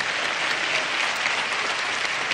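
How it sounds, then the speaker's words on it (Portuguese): Vigorous congregation applause at a national youth conference church gathering, a thick, even wall of clapping from a large crowd, loud and unbroken. "Aplauda Jesus bem forte."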